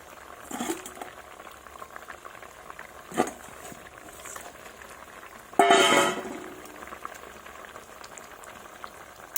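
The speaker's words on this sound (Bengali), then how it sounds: "ঝোল ফুটে গেছে বন্ধুরা।" Fish head curry broth with spinach, brinjal, tomato and potato boils in a pot, heard as intermittent bursts of thick bubbling, the loudest and longest about two-thirds through, with quiet stretches between.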